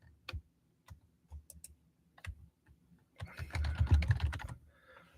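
Typing on a computer keyboard while looking up Ford IDS diagnostic software for a 6.0 Powerstroke diesel: sparse scattered keystrokes at first, then a denser, louder burst of rapid clacking near the end, close by with no talking.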